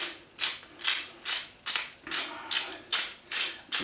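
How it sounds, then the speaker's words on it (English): A grinder works through garlic and chilies for a homemade jerky marinade, giving about nine short, evenly spaced, gritty whirring bursts close up, with no talk. "this is grinding up all the relevant bits and pieces"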